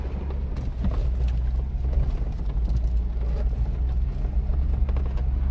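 A Jeep crawls along the Metalmasher trail near Moab, its engine a steady, close low rumble with faint creaks and knocks from the rough ground, and no voices.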